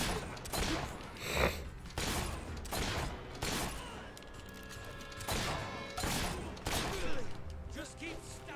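Combat in Fable 3 with gunshots and blade strikes, sharp repeated bangs roughly every second over clanking, ringing metallic tones and a busy background.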